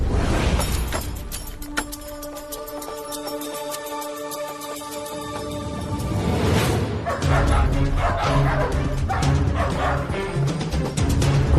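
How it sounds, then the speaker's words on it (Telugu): A dog barks loudly and repeatedly, with sharp yips and whimpers in a continuous close series. "కుక్క చాలా గట్టి గట్టిగా అరుస్తుంది"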